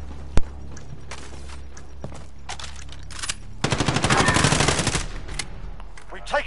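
Gunfire in Call of Duty Modern Warfare, with one sharp early shot followed later by a rapid, dense burst of shots lasting about a second and a half, loud and close, with faint scattered sounds between.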